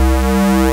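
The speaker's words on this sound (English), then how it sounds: "a new program is created with 3 square waves that sounds like this" A synthesizer patch in nuSpin built from three square-wave oscillators holds one loud, steady buzzing tone with a dense stack of even harmonics, unchanging for under a second.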